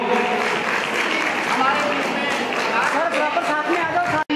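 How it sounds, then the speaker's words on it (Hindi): A crowd claps continuously at an awards ceremony in India, dense applause with voices mixed in, then a brief sharp cut near the end. "उस सम्मान में तालियां बजनी ही चाहिए।"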